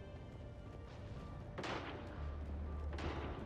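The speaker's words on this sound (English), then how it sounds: "Shooting." Gunfire in the Mass Effect 3 video game, heard as a pair of heavy booming shots over a steady droning soundtrack and low rumbling hum, fairly quiet overall with no talking.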